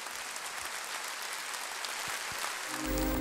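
Concert audience applauding throughout, dense continuous clapping that fills the room at a steady level, with no talk and a low sound entering at the very end.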